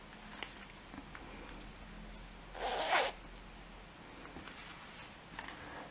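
A single quick pull of the zipper on a crochet pouch, brief and close, rasps once in otherwise quiet surroundings.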